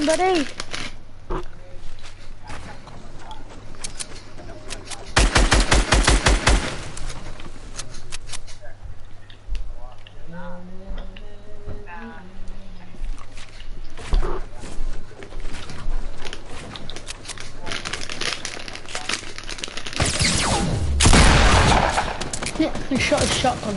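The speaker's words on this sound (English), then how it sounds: "I shot a shotgun like an idiot." Shotgun blasts in Fortnite battle royale ring out as loud, dense bursts of gunfire in two clusters, one early and one near the end, with players talking over the game action between them.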